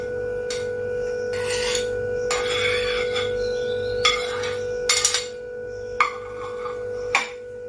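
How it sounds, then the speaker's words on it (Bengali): Chopped tomato, capsicum, green chilli and onion dropped one after another into a pan while making a quick stale-roti breakfast, several short clattering bursts and clinks over a steady hum, with no talk. "এরপর একে একে আমি এর মধ্যে দিয়ে দিচ্ছি টমেটো কুচি ক্যাপসিকাম কুচি কাঁচা লঙ্কা কুচি পেঁয়াজ কুচি"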